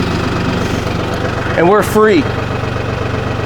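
An LS tractor engine idles steadily with a low, even rumble throughout, while someone speaks briefly over it partway through.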